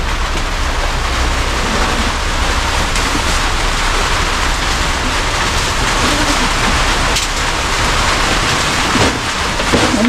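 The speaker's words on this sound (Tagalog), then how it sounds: "Ayan na, lumakas na ang ulan." Heavy rain, a dense, steady hiss of downpour that stays loud and unbroken throughout, with no voices over it.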